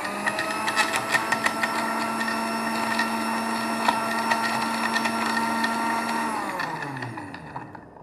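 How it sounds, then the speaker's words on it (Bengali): A kitchen blender whirs steadily, blending a recipe with dates and banana, holding a strong, even drone before winding down and stopping near the end; no talking. "এই ফার্স্ট টাইম আমি ব্লেন্ড করছি"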